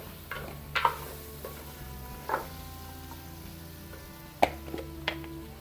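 Ash gourd curry being stirred in a pan, a soft low sizzle broken by a few separate clinks and scrapes of a spoon against the metal, fairly quiet.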